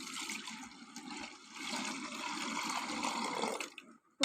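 Watermelon juice, seeds left inside, poured and pressed through a strainer in a home kitchen; a steady liquid trickle and splash that swells midway, then stops abruptly with a brief clatter.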